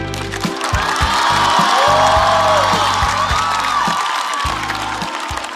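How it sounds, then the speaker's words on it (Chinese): A studio audience applauds actress Liu Xiaoqing on a Chinese talk-show stage, a dense, steady wash of clapping that stays loud throughout, with brief musical stings and a faint whoop over it. "次把热烈的掌声送给主咖李晓庆"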